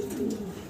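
A racing pigeon gives a single short, low coo, close and clear against quiet surroundings.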